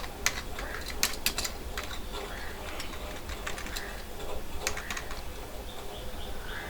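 Keys tapped on a computer keyboard while drafting an email in Gmail: scattered light clicks, a few sharper ones early on, fairly close over a steady room hiss with faint background chirps.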